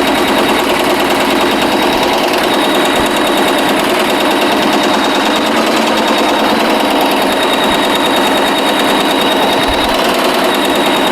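Embroidery machine stitching a satin-stitch star onto a travel bag, a loud, constant rapid needle chatter and motor whir running without pause, close to the mic.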